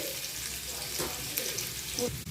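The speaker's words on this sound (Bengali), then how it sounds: "ওলকপিটা একটু তেলের দিকে নেড়ে নিচ্ছি" Kohlrabi, lightly fried beforehand, sizzles and crackles steadily in hot oil as it is stirred in a pan, with a few brief scraping stirs over the continuous frying hiss.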